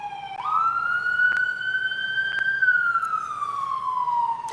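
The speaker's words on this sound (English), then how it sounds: "There's always a siren going on in New York." An emergency vehicle siren in New York sounds a long rising then slowly falling wail, fairly loud and steady over light street background, with no talk.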